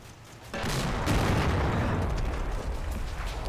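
A Sherman tank's cannon fires in the Combat Mission game, a sudden loud blast that swells into a heavy rolling boom and then decays slowly, with a close, dense low-end rumble.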